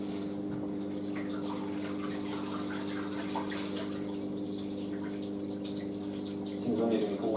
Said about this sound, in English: This is the final drain for the final rinse now.